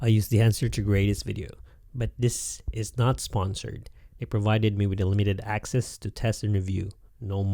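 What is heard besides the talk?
None of the usual background noises is heard.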